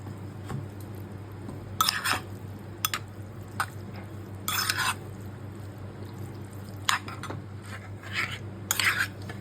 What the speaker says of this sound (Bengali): ঘরে পাতা ফ্রেশ টক দই দিয়ে দিচ্ছি।